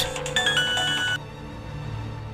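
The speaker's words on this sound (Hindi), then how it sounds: "बॉस का फोन है।" A phone's ringtone sounds for an incoming call, a bright repeating electronic melody that rings clearly for about a second before cutting off, leaving a quiet room tone.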